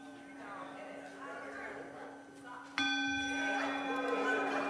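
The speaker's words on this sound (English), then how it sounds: "Ring the bell." A single bell is struck at the start of a Sunday service at First Church Unitarian in Littleton, Massachusetts, ringing out clearly with a lingering tone in a room with faint background talk.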